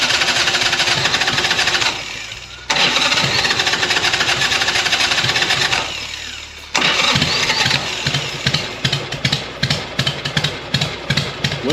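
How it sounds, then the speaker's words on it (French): A 1988 Harley-Davidson Sportster 883 motorcycle engine cranks and catches several times, cutting out in between, then settles into a loud, close, lumpy, very low idle with uneven rhythmic pulses. "écoute ce que ça donne une Harley 88."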